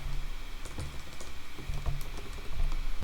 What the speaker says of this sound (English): you can type in date